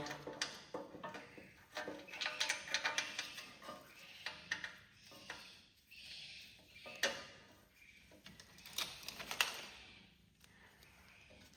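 Battery tray being bolted into a Cub Cadet 1211 tractor with 5/16 bolts, heard as faint scattered metallic clicks, taps and clanks of parts and tools handled close by.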